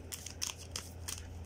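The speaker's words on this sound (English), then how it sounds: "So let's try to do an overhand shuffling." New, glossy oracle cards being overhand shuffled, giving quick papery slaps and riffles in close, repeated bursts.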